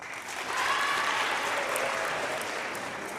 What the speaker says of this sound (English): we'll give these girls a big round of applause